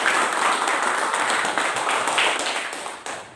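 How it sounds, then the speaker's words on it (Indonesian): A classroom group applauds after a lesson on economic activities. Dense, steady clapping from many hands carries through the whole stretch and thins slightly near the end. "kita berikan tepuk tangan."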